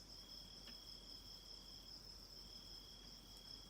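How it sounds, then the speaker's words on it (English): Crickets chirping steadily in a quiet night setting, a continuous high-pitched trill that holds faint and even with nothing else around. "hearing the crickets"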